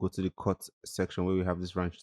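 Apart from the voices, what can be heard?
No everyday noise stands out behind the speech.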